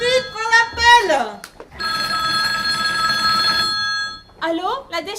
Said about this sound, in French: Ariane, Ariane, un coup de fil, prends l'appel